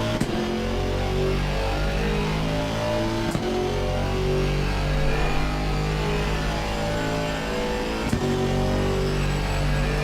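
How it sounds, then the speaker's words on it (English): A GT2 race car engine in a racing video game, with a tone like an Aston Martin engine, drones loudly and steadily for the whole stretch, holding a constant rev with a few brief sharp clicks and no speech. "Hear the sound? Now, doesn't that sound like the Aston Martin?"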